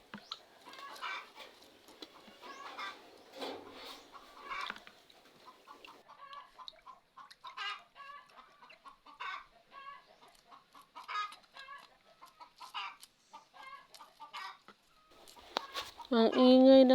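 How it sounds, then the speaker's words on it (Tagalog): Hens cluck and cackle repeatedly at a moderate distance, an irregular chatter building to a louder squawk near the end. "Ang ingay ng manok namin"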